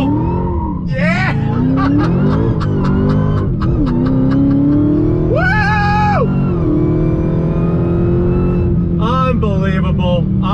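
A 2020 Dodge Charger Hellcat Widebody accelerates hard on throttle from inside the cabin, its supercharged engine rising and falling through gear changes with loud rising whine and a steady deep drone underneath.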